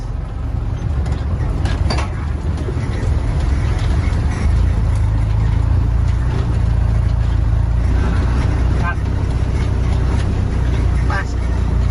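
A Jeep CJ-6 plunging into a river, heard as a loud, continuous rumble of engine and churning water throughout, with people talking over it.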